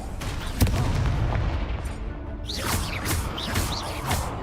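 Fiery Confringo spell blasts in Hogwarts Legacy go off as a series of sharp booms and crackling bursts, one punchy hit early, then several whooshing impacts layered over constant battle noise.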